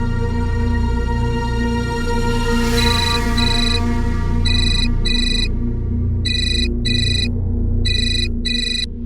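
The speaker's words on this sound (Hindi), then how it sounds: "किसका फोन है?" A phone ringtone chimes in repeated short bursts over a steady background hum, the electronic tones pulsing in pairs and growing more regular.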